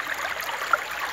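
Water from a river behind a house trickles steadily as a soft, continuous wash of running water, close and fairly even throughout, with no voices.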